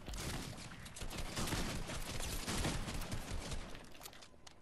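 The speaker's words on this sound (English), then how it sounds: "They're shooting me through a wall" Dense, continuous video game gunfire, rapid overlapping shots at a steady loud level with no pauses, like a sustained fusillade close by.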